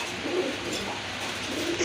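Baghdadi pigeons cooing at a pigeon sale, soft low coos rising over a steady background murmur.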